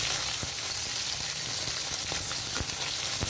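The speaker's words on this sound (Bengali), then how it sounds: "এবার অপর পিঠটা উল্টে ভেজে নেবো ভালো মতো।" Bata fish pieces frying in hot oil in a pan as they are turned over, a steady close sizzle with a few soft clicks and taps from the spatula, no voices.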